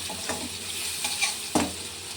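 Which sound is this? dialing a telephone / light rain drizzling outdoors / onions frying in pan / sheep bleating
onions frying in pan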